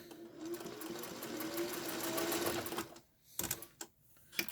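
A sewing machine stitches a fabric face mask, running in one steady, close whirring burst for about three seconds, then stopping, followed by a few short stitches and brief handling noises.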